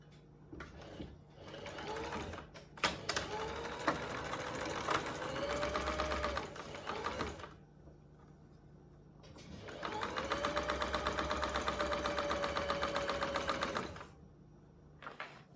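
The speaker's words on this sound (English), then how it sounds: "we'll sew the band together, this end and this end," Sewing machine stitching the ends of a fabric band cut from an old roll-neck T-shirt into a loop, running in two long steady bursts of rapid, even stitching with a short pause between them, close and clear.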